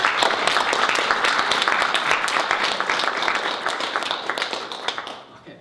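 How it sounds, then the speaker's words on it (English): Audience applause at a 2015 launch event fills the room, dense, loud clapping that holds steady for several seconds before tapering off near the end. "give a big round of applause for them"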